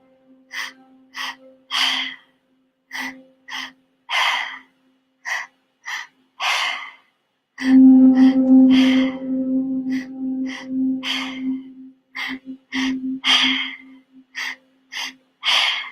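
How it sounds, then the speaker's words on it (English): Deep breathing exercise: a voice takes repeated sharp inhales and exhales through the mouth, about a dozen close breaths in a steady rhythm, with a longer, louder drawn breath in the middle. "Breathing in twice, exhaling through the mouth, always inhaling and exhaling through the mouth."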